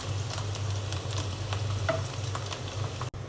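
Pitha rice cakes frying in very hot oil give a steady close sizzle with soft bubbling and faint ticks, a short click near the end, and no talk.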